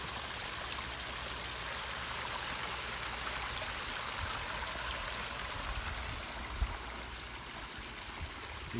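A homemade tide maker gushes water like a fire hose, a steady broad rushing flow filling the whole clip at an even level with no voices.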